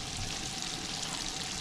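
Bacon frying in a greased pan at a campsite, a steady dense sizzle with fine crackling that holds evenly throughout, close and fairly loud, with no voices.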